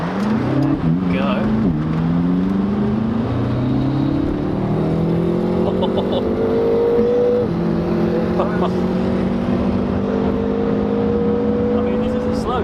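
A tuned 500 bhp stage 2+ BMW M140i drag races a big single-turbo BMW M4, loud engines revving hard through repeated gear changes, pitch climbing and dropping with each shift, close and sustained throughout.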